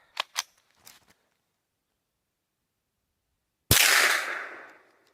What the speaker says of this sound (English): every round I fire, I get a failure to feed right now